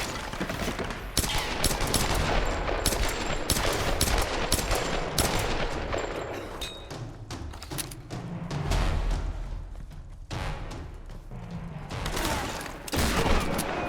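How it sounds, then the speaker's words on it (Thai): Dense bursts of gunfire rattle through a Tomb Raider firefight at a cult base, rapid automatic volleys and sharp single shots layered with booms, loud and nearly continuous with no talk. "มันยิงอยู่เลย มึงยังยิงอยู่เหรอฮะยังเอากระสุนหมด"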